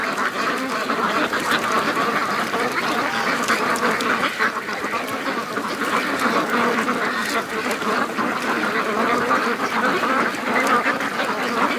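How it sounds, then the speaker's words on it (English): Dense, continuous quacking from many free-range ducks on a creek with a little skim ice, loud and close, with overlapping calls and splashy background noise throughout. "So the ducks are in the water."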